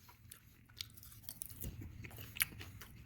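Cheese popcorn being crunched and chewed close up, a busy run of crisp crackling bites and wet chewing with a few sharper crunches, with no talking.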